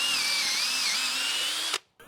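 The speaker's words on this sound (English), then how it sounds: "We're going to use a 5/16 of an inch drill bit." A Ryobi cordless drill with a 5/16 inch bit bores through a treated 4x6 with a loud, steady high whine that wavers slightly in pitch, then stops abruptly near the end.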